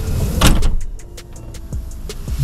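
A 2017 Volkswagen Multivan T6 door swings shut with a firm thump, followed by a few lighter clicks and latch knocks close by.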